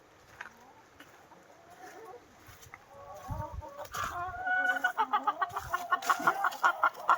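Chickens cluck close by in their coop in autumn, quiet and scattered at first, then in a louder run of rapid, busy clucks toward the end.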